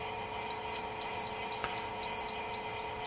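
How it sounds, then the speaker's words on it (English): A water rocket's flight computer sounds its lost-rocket alarm: a series of six short, sharp electronic beeps at an even rhythm, about two per second, fairly clear against a quiet background. "after a preset amount of time, the lost sound alarm will sound"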